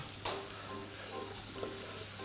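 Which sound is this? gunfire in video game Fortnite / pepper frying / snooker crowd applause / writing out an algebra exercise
pepper frying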